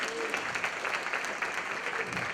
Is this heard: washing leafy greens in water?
no